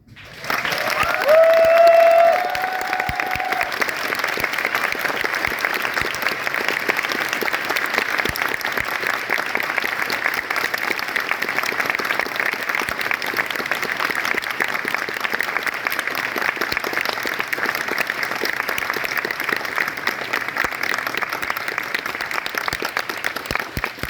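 A large audience at a furry convention's closing ceremony keeps up sustained, even applause for over twenty seconds, with a brief whistle or cheer near the start.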